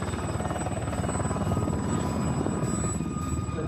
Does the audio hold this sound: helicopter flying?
yes